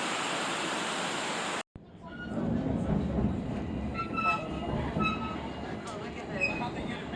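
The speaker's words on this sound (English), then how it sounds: "We're here on the White Pass Railroad." The White Pass Railroad train runs with a steady rumbling and rattle of rail cars heard from on board, after a short burst of broadband noise; people talk over the rolling sound.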